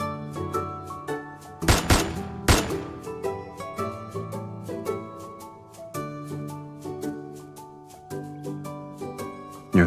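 Gunfire in the Love and Deepspace game during the Sylus "Rain Noctis" birthday event: a few sharp, loud bangs around two and a half seconds in, then repeated lighter impacts over steady music, with no one speaking.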